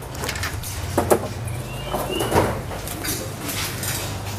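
Pigeons coo softly in a loft where contest birds are kept, low repeated throaty murmurs over a steady background hum, with a couple of brief louder knocks.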